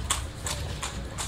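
Horse hooves clip-clopping while pulling a cart on a Marrakech street tour, a steady rhythm of four hoof strikes heard close and clear with faint low background rumble.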